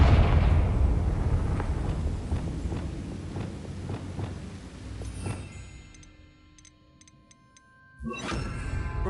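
A Confringo blasting spell in Hogwarts Legacy on PS5 sets off a run of repeated booming blasts and impacts amid rumbling game action, then the clamour drops away before a final burst.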